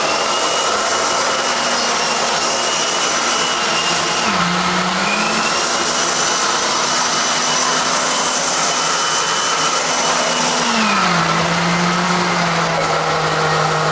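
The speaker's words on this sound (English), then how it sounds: "Chopping those big lumps of ice up." A blender roars loudly and continuously, chopping big lumps of ice for a frozen cappuccino, its motor pitch dipping twice as it chops through, with no voices.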